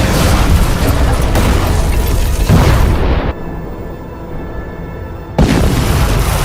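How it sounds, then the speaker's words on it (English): Godzilla's atomic breath in Godzilla Minus One erupts as a loud, continuous roaring blast with rumbling noise, drops into a muffled hollow lull, then bursts back at full force. "Godzilla's atomic breath"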